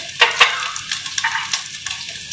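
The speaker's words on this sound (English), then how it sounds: "so ginger in, sizzling, great." Ginger hitting hot oil in a single cooking pot for sambar rice, a bright crackling sizzle with quick spitting pops and a few louder bursts, close and clear with no voices.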